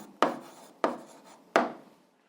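Pen strokes scratching across paper while an answer is written out by hand: three short rasping bursts, close and fairly quiet, each fading quickly, with no one talking.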